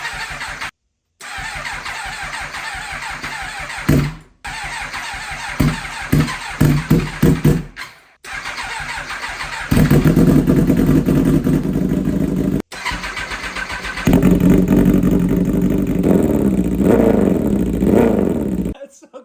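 A burned 2022 MV Agusta Brutale 1000 RR Nürburgring motorcycle under rebuild cranks in several short bursts, then catches and revs loudly up close. The engine roars steadily with brief drops between blips.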